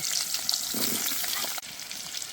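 Potatoes frying in oil for a Bengali fish curry made with ground spices, a close, steady crackling sizzle with a soft stirring clatter partway through.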